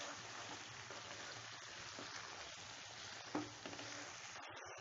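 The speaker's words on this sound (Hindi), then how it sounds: "हाई फ्लेम पे इसे भी अच्छे से भून लें।" Chicken coated in ginger-garlic paste fries hard on high flame in a karahi, giving a steady, close sizzle with a few brief stirring clinks near the end and no talk.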